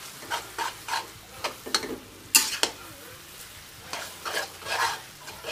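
Korat noodles are stir-fried in a pan with rhythmic scraping and tossing strokes over a soft sizzle, and a sharp metallic clack cuts in midway, all close and clear.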